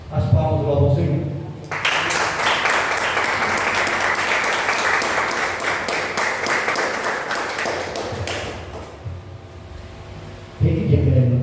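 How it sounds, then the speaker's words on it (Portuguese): Church congregation bursts into sustained, dense applause lasting several seconds, starting after someone speaks and fading as his voice returns at the end. "As palmas louvam ao Senhor."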